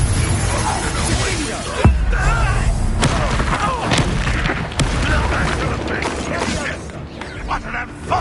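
A Confringo blasting spell explodes in Hogwarts Legacy, loud booming blasts and sharp cracks over dense game noise and music, with a few sudden impacts spread through the stretch.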